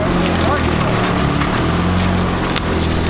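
A small aircraft engine runs just after starting, a loud, steady propeller drone heard close up and continuous throughout.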